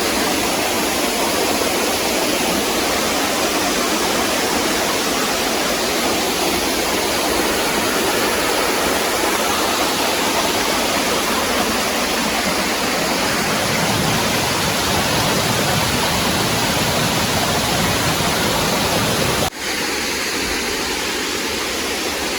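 Water from a waterfall pours down from above in a constant, dense roar that stays loud and even, broken only by a brief dip near the end.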